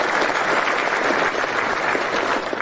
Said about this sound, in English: moms and dads, a big round of applause.